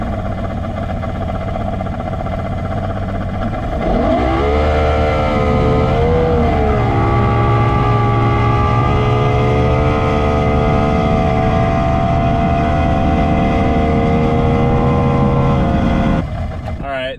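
A vehicle drives with a loud steady engine drone that rises in pitch as it accelerates, then holds a level hum, close and continuous throughout.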